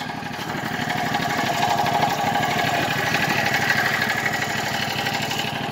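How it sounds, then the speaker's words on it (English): Landmaster LM650 653cc UTV engine idling steadily up close, a continuous low rumbling drone with a fast regular pulse that holds level throughout, with no voices. "idle needs to go down a little bit more."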